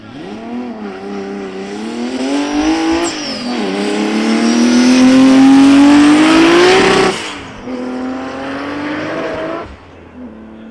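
A Datsun GX drag racing car runs at a drag strip during open practice, its engine revving loudly and rising in pitch through the gears, then easing off and revving again, close and dominant with no talk.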